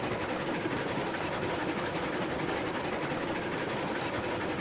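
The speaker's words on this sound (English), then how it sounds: "So you kind of need to get the iron ore train loaded up and then back out the way." An iron ore freight train running in the Railroads Online video game, a steady rumbling rail roll with faint rhythmic clatter, continuous and even throughout.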